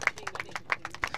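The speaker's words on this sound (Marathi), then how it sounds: "चंद्रकांत पाटील बघा टाळ्या वाजून स्वागत करतात." Several people clap to welcome a batsman at a local 40-plus cricket match, a handful of sharp, separate claps in a quick, uneven rhythm, fairly faint and close.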